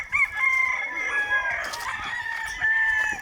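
Gamefowl bullstag roosters crow at a game farm, one loud, close, drawn-out cock-a-doodle-doo overlapping with other crowing and clucking nearby.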